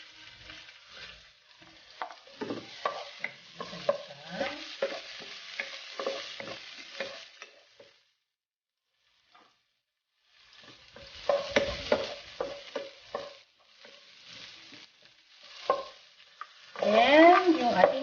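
Garlic and onions frying in a pan with a spatula stirring, crisp sizzling in bursts with scraping strokes, a pause of near silence midway, then a louder burst of frying and clatter at the end.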